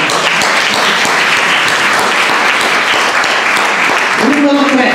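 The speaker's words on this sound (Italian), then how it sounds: "un applauso" Loud, dense audience applause fills the hall continuously, with a voice starting to speak near the end.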